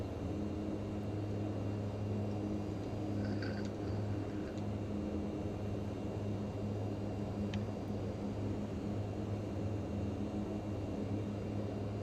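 A Mitsubishi MU-2 turboprop in Microsoft Flight Simulator 2020 drones steadily from the cockpit, a constant loud engine hum and airflow rush with a few faint clicks and beeps on top.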